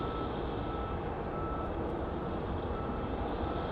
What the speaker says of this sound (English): That is our American Airlines flight.